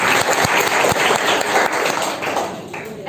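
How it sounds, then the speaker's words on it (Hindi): An audience at an International Women's Day event breaks into loud, steady applause for a speaker, dense clapping that holds for a few seconds and tapers slightly at the end. "एक बार सर के लिए जोरदार तालियां"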